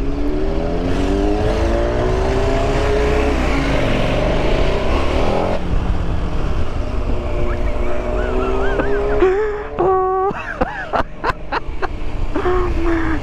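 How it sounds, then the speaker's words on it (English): A 2021 KTM 1290 Super Adventure S motorcycle rides through London, its engine and exhaust droning steadily up close, rising and falling in pitch, with a few sharp revving bursts near the end. "That's a really tacky sounding exhaust."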